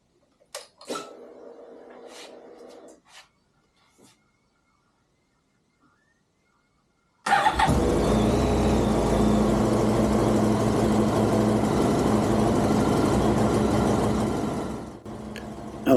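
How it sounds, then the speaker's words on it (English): A Honda VFR1200F motorcycle engine starts abruptly after a stretch of quiet clicks and handling noises, then settles into a steady, loud, close idle that runs for several seconds before dropping off. "you have to turn on the engine and warm up the coolant"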